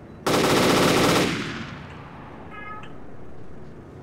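A loud, sustained burst of rapid automatic gunfire in a military video game, aimed at a UAV, lasting about a second before decaying into a rumbling echo, with a faint chirping tone afterward.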